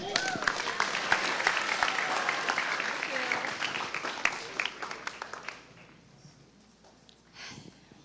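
Audience applauding a student performer at a grade 11–12 spoken word event, a dense wash of clapping with cheering voices that fades out near the end, followed by brief quiet.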